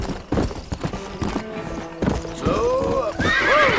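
A horse in Red Dead Redemption clip-clops along with quick hoof strikes, then neighs loudly and clearly in the second half, close up over low background voices.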